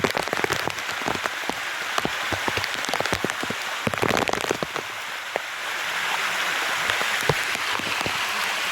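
Heavy monsoon rain pours steadily in the Girnar hills near Junagadh, with dense pattering and sharp drops hitting surfaces nearby, no voices.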